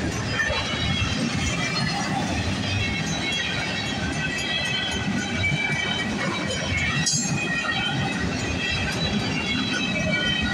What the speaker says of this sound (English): Caught this train in a while. This one's been running late these days.